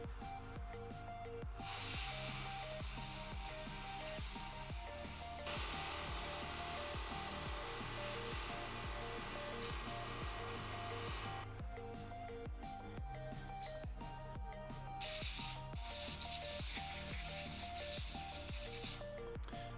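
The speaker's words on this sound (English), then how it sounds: "Next up is sandblasting." Carburetor parts are sandblasted in a continuous hissing rush of abrasive spray, steady and moderately close, with breaks and shifts in intensity as the blast starts, stops and resumes.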